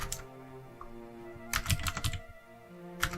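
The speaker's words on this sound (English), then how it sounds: "if I could type right, that'd be great" Keys clatter in short bursts on a computer keyboard in a quiet room, a brief pause separating two quick flurries of typing, with a lone keystroke near the end.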